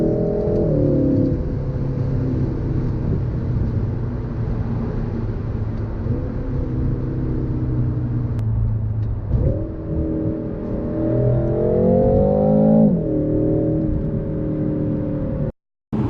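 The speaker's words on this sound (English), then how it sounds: "even stock, it's not bad at all, because you got that V8 sound." A 2017 BMW M6 F13 with its V8 on the stock exhaust revs repeatedly, a deep rising and falling drone with several climbing pulls, loud and close with no talking.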